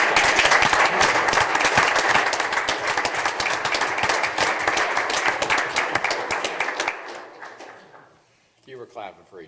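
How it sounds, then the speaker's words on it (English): A room at a township trustees meeting applauds graduates with sustained, dense clapping of many hands for about seven seconds, then it fades and a voice speaks briefly afterward. "let's give a big round of applause for these guys"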